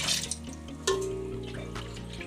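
Water pours steadily, close by, with a splashy hiss and a faint tonal ring as a vessel fills, measured out by the cup.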